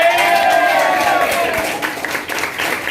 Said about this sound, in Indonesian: Promotornya kasih aplaus untuk Bu Rahmawati